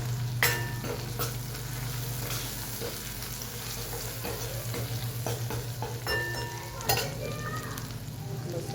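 Spices fry with turmeric in a pan at home, giving a steady close sizzle while a spoon stirs and scrapes against the metal in scattered clinks.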